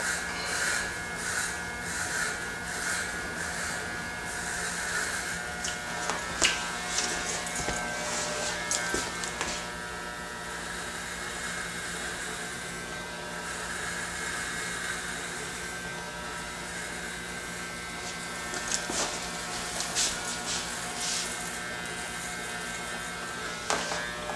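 Electric clippers buzz steadily while shaving the sides of a flat-top haircut, a close, continuous motor drone with slight changes in pitch as the blades move through the hair.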